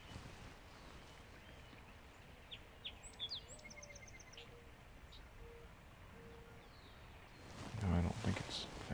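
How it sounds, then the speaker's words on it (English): A red-winged blackbird sings faintly in the distance, giving a few short, bright phrases against a steady outdoor hum. A louder rustling noise comes in near the end. "Song, red-winged blackbird."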